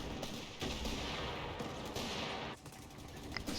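Machine gun fire rattles through a Company of Heroes 3 battle, dense and continuous at moderate distance amid other combat noise, briefly thinning near the end, with no talking.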